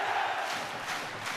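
Rugby league crowd roaring for a Widnes try against Hull FC in 2012, a broad sustained wash of cheering from a stadium full of supporters, steady and fairly loud with no clear single voice.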